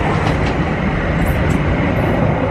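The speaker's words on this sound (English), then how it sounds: "Another train." Steady, loud rumble of a train rolling by close at Dealey Plaza, Dallas, a continuous roar of wheels on rails with no voices.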